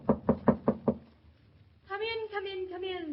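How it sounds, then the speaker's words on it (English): A door is knocked on in an old-time radio drama: five sharp, evenly spaced raps close by, then a pause, and a voice speaks afterward. "Knock again."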